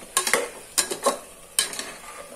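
Masala being sautéed in oil in a pan for a village dal meal: three distinct bursts of spoon-scraping stirring strokes, close and crisp, with a faint sizzle between them and no talking.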